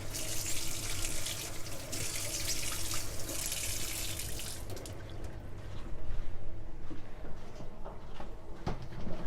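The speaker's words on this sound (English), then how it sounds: "I just tip that into the kitchen sink, and then give that a thorough wash, rinse, clean down." Water is tipped from a bin into a kitchen sink and rinsed: a hissing, splashing flow for about five seconds, then quieter trickles, drips and sloshing with a few knocks, fairly faint and close.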